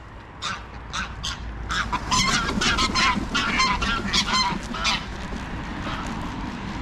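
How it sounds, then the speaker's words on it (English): A flock of geese on the Norfolk Broads in December honks and cackles continuously, many overlapping calls close by, loud and busy throughout. "Upset the geese."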